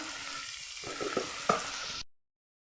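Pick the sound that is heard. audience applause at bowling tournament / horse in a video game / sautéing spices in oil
sautéing spices in oil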